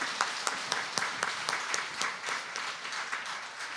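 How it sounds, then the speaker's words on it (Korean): A church congregation claps in unison at an Easter Sunday service, sharp rhythmic claps at an even pace for a few seconds, moderately distant. "우리 하나님께 영광의 박수 올려드리겠습니다."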